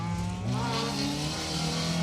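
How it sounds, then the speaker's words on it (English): Citroen Saxo rally car driving a stage at the Rali Menai Stages, its engine loud and close with a steady high-revving drone and rising harmonics as it accelerates, with no talk. "And Arkin Williams in their Citroen Saxo, clearly having lots of fun."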